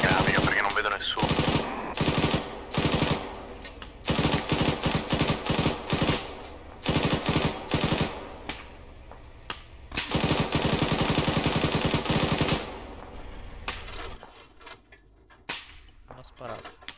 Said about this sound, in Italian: Ho sparato.